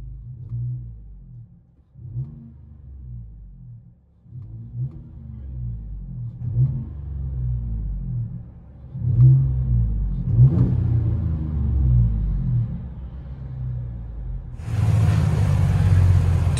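A 2019 GMC Sierra Denali pickup's 6.2-liter V8 revs repeatedly, short throttle blips growing longer and louder into sustained deep rumbling, ending in a broad rushing roar; close, no talking.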